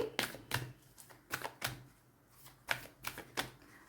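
Tarot cards are shuffled in quick bursts, a series of crisp riffling snaps coming close and distinct with brief pauses between them.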